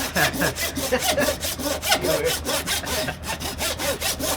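A hand saw rasps back and forth in a steady, rapid rhythm, close and loud, grinding through beef rib bone with no voices.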